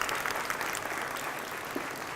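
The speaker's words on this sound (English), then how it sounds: "if I could have a round of applause for our" An audience at a Physics Van science show applauds its volunteers, a soft, fairly distant patter of many hands clapping together at a steady level.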